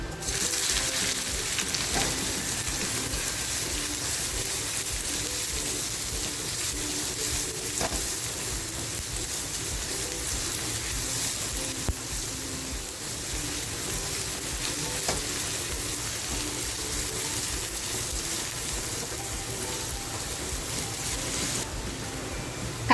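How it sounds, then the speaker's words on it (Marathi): Chopped onion sizzles steadily in hot oil in a small kadhai, a dense, even frying hiss that holds at close range for the whole stretch with no voices. "तेल छान तापलेलं आहे कांदा जो कापून घेतला आहे तो कांदा टाकते"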